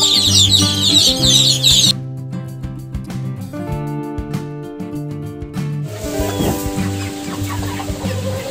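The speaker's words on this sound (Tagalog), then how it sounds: "Ayan na yung mga dati naming sisiw. Ang lalaki na nila." Young Rhode Island Red chickens about three months old cluck and chatter close by in a rural yard, soft repeated clucks with some brief crowing-like calls.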